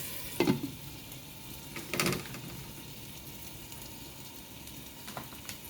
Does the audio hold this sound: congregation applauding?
no